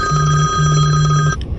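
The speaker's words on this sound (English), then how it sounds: "sorry, that was a phone call" A telephone rings loudly and close by with a steady electronic tone, two rings separated by a short gap, then cuts off abruptly.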